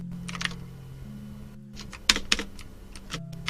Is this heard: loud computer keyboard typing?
yes